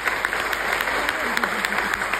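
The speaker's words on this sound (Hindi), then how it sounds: "अपने अपलाइन मेंटर के लिए एक बार जोरदार ताली दें।" An audience claps loudly and steadily throughout, a dense continuous burst of applause filling the room at a motivational business event.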